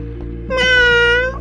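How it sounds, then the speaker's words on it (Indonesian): A single high, plaintive kitten meow rises and fades over about a second, close by, over a low steady background hum. "Kasihan juga nih anak kucing."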